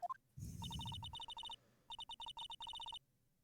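Phone in the Ace Attorney video game ringing after a redial, a short rising chime followed by rapid repeated electronic trills in bursts, clear and alone.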